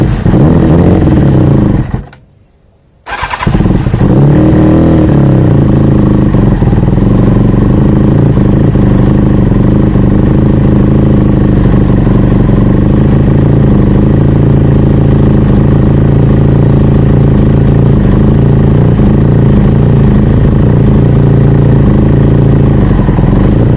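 A project motorcycle engine runs with the choke fully on, idling roughly and loudly for nearly the whole stretch after a brief cutout near the start, a close, continuous uneven rumble with a fault suggesting dirty carburetors.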